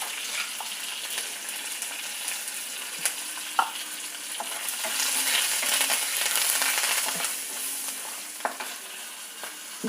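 Mustard seeds, green chili, curry leaves and asafoetida frying in hot oil for a tempering, a close, steady crackling sizzle with scattered pops and stirring clicks, no voices.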